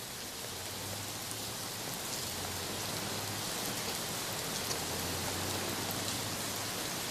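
Steady rain falls continuously, a dense even hiss of drops on surfaces with a faint low hum beneath, no voices.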